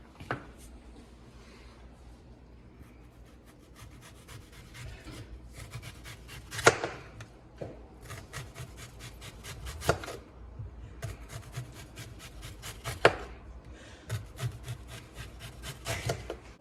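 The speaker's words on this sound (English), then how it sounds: "the next thing we have to do is thinly slice our onion this way" A knife thinly slices an onion on a wooden cutting board, rapid rhythmic chopping taps in bursts with a few sharper knocks, close and fairly quiet.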